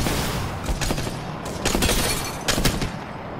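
Video game gunfire in several rapid bursts, one near 1 second, another around 1.7 seconds and a third near 2.6 seconds, loud and dense over a steady background rumble, with no voices.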